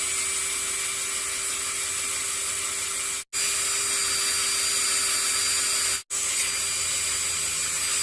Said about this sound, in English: the next step is going to be to drill holes in line with the little brackets on the car